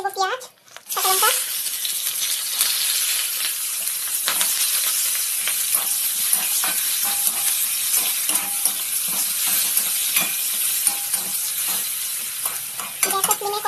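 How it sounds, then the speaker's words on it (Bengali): Cumin seeds and dried red chillies sizzle steadily in hot oil on a gas stove, a loud continuous hiss with occasional stirring rattles throughout. "আমি জিরে আর শুকনো লঙ্কা ছেড়ে দিলাম তেলের মধ্যে"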